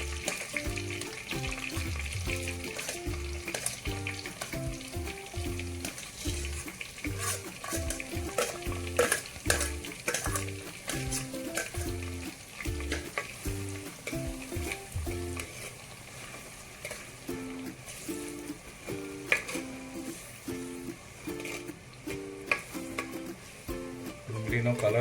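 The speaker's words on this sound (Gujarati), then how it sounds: "ડુંગળી સંતળાઈ ગઈ છે." Chopped onions sauté in a pan for handi chicken, giving a continuous soft sizzle broken by regular scraping strokes of a spoon stirring them, fairly quiet throughout.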